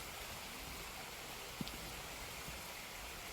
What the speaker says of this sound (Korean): 오늘은 뭐 말을 많이 하지 않고 되도록이면 시냇물 소리를 많이 들려드리도록 하겠습니다